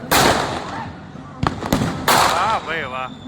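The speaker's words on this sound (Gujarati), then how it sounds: "આપણે ફટાકડા ફોડીને કમ્પ્લીટ થઈ ગયા છે" Diwali firecrackers burst at night in several sharp, loud cracks and pops with crackling between them, while people talk and exclaim nearby.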